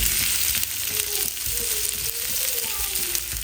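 Stuffed bitter gourds frying in a pan, a steady close sizzle with faint clinks, while someone speaks over it.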